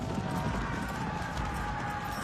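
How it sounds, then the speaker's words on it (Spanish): Cavalry horses gallop in a dense, continuous rumble of hooves that stays loud and busy throughout the clip. "La caballería ha arribado."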